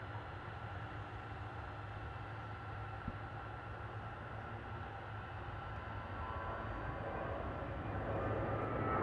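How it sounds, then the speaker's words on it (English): An Airbus A321 jet airliner departs DFW International Airport, a steady broadband roar that holds evenly throughout and swells slightly louder toward the end, heard from a distance without speech. "Checking out this A321 departing."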